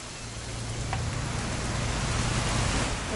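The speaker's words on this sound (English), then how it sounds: "It's gonna rain the whole weekend," Steady rain falling in a video game scene, a dense, even hiss of drops that stays constant and fairly loud for the whole stretch, with no voices.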